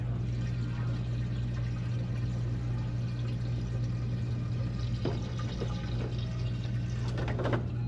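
Water flushes and gurgles through a plugged fixture, a steady close-up rush over a constant low mechanical hum, with a few sharper splashes near the end.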